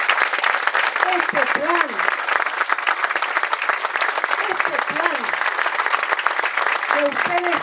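Sustained audience applause at a political presentation of a Peronist economic plan: dense clapping fills the whole stretch while a voice speaks briefly over it a few times.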